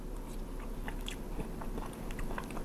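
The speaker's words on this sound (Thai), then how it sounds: "ชิมน้ำพริกอย่างเดียวหน่อยนะ" Someone bites and chews grilled fish with Thai chili paste (nam prik), giving soft, close crunching and mouth sounds at a low, steady level, with no talking.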